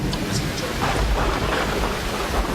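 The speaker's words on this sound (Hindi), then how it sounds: "थोड़ी देर में बारिश रुक जाएगी" Steady heavy rain beats down with a low rumble of thunder rolling beneath it, a dense continuous wash of noise with no talk.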